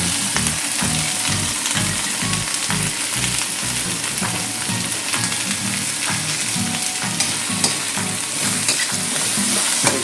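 Pork liver fries in a hot pan with onion, a dense, continuous sizzle close by, broken by a steady rhythmic scraping and stirring.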